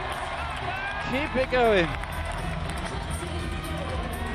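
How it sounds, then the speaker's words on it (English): The crowd at the IFSC World Championships bouldering finals in Paris, 2016, roars and cheers steadily throughout, with a commentator talking over the noise. "The crowd literally erupting as he gets onto the head wall."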